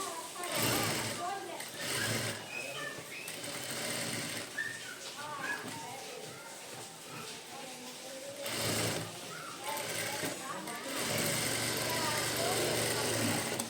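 A sewing machine runs in several bursts while stitching the lining of a small child's blouse, whirring steadily close by, with someone talking over parts of it and short pauses between runs.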